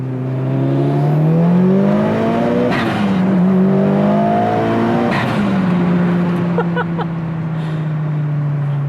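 A Mitsubishi Lancer Evolution with HKS upgrades revs hard and climbs in pitch, shifting gears twice with brief dips, loud and close throughout, ending in a steady drone.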